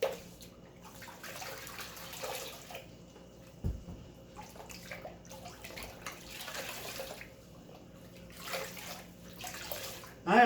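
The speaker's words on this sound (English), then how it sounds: "I'm going to go ahead and wring out all 3 sponges." Wet grout sponges being wrung out into a bucket of water, with repeated splashing and trickling bursts between quieter pauses.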